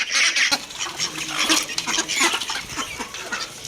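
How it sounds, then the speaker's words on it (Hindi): Ducks eat fast, with busy, dense dabbling and quacking sounds that stay close and continuous, and nobody talks. "खाने की बड़ी स्पीड है हमारी बतखों की"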